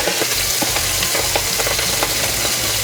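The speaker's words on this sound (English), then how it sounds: "Go ahead and turn these so they get seared all the way around." Braciole meat rolls sear in a hot pan with a loud, continuous sizzle, dotted with small pops and scraping as they are turned.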